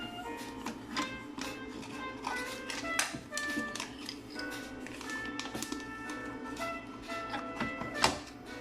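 A printer paper cover on a Contec semi-automated biochemical analyzer is handled, producing a series of faint, close plastic clicks and taps with a sharper snap near the end over a low background hum.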